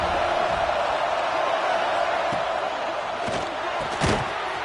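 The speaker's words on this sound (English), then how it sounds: "This crowd ready to make its presence known." A packed football stadium crowd roars continuously in a loud, dense wall of cheering, with occasional sharp thuds and shouts rising above the sustained noise.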